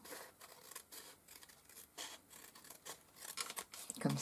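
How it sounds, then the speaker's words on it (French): Scissors snipping in a straight line through a strip of gel press printed washi tape, a run of quiet, crisp cutting strokes close by with short pauses between them. "Alors là, je le coupe droit avec des ciseaux"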